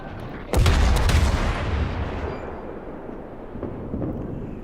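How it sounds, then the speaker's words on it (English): Gun salvo from the cruiser HMS Fiji in World of Warships, one loud deep boom with a sharp onset that rolls into a long fading rumble, a couple of fainter thuds following later. "I know we're broadside, we're doing a quick salvo and return back to port."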